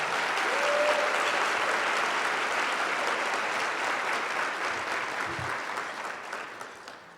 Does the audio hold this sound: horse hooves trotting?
no